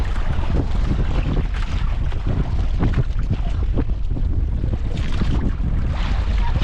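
Wind and water rush around a small fishing boat in rough, wavy sea, a steady loud broadband roar with gusty buffeting on the microphone and occasional splashes, no talking.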